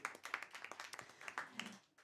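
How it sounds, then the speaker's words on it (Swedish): A stand-up comedy crowd gives faint, sparse applause, with a handful of distinct irregular hand-claps heard at a distance and fading out after about two seconds. "En applåd på det, tack"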